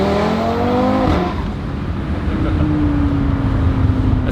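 Tuned Audi RS3 8Y accelerating hard, engine note climbing steadily through the revs, then a brief gear change and a renewed strong pull, loud and close with no talking.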